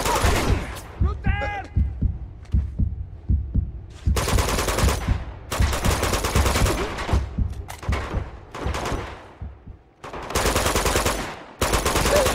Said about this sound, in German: Hör auf mich zu schießen.